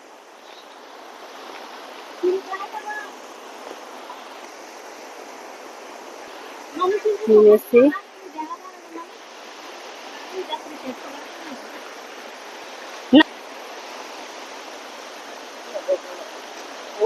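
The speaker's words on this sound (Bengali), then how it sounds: "জলের ঝর্ণার কি আওয়াজ দেখো" Hillside waterfall rushing as a steady, fairly quiet wash of water, with a few brief knocks and short bursts of voices over it.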